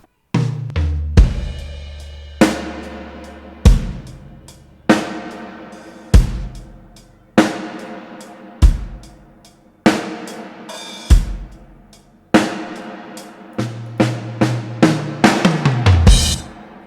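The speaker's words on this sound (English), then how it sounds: "The drum kit that I've used here is Native Instruments Abbey Road Modern Drums, and specifically it's the Modern Sparkle kit" A Native Instruments Abbey Road Modern Drums groove using the Modern Sparkle kit, with punchy kick and snare hits, bright cymbals and a fill near the end, playing alone at a steady tempo.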